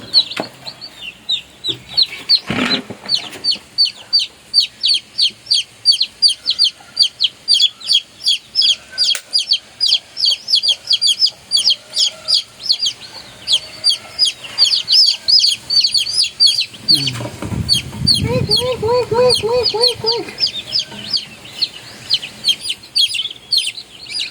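Backyard chickens cluck and cheep close by in a steady stream of rapid, repetitive high calls, with a louder burst of clucking toward the end of the stretch.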